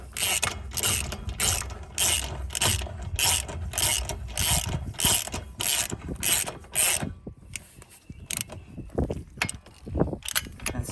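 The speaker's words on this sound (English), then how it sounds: "we're gonna spin this tire" Front wheel hub of a car spinning freely after its bolts are tightened, a rhythmic mechanical clicking and whirring ratchet-like pulse, close and steady for about seven seconds, then slowing into scattered clicks and taps.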